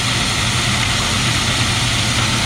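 Grain bin auger unloading into a wagon, a loud, steady mechanical drone with heavy low rumble and a constant hiss of flowing grain, running unbroken and close with no talk.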